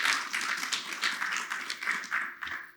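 Audience clapping at a pledge ceremony, a steady patter of many hands that swells in waves and tapers off near the end, moderately loud with no talking over it.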